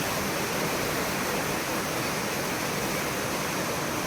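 A stream swollen with rainwater rushes near the Karumalai Estate waterfall in Valparai, a dense, loud, unbroken roar of water heard close up and alone.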